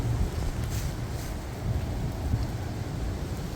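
Strong wind from Storm Eowyn buffeting the microphone outdoors, a steady low roar of gusts with rumbling swells and no clear voices.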